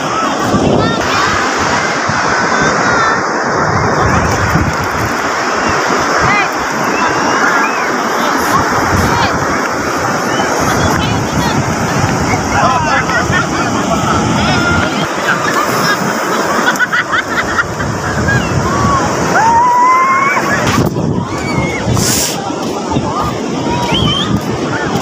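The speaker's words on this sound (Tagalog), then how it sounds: "Kasi ang lalaki talaga ng alon." Rough, constant roar of large sea waves on a windy beach where horses are kept, with wind buffeting the microphone and people talking and calling in the background throughout.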